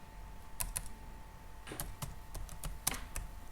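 Keystrokes on a computer keyboard come in short, irregular taps with small clusters and pauses, quiet and close, with no talking.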